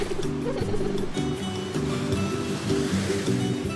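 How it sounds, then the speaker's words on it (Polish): Large sea waves rolling onto a beach at a swimming area marked with buoys, a steady broad wash of surf filling the whole stretch, with soft birdlike cooing tones layered on top. "Są duże fale, więc wejście do wody jest niebezpieczne."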